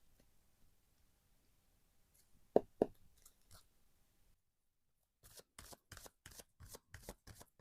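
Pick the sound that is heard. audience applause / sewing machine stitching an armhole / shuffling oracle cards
shuffling oracle cards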